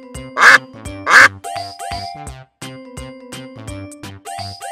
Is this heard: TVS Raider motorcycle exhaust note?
no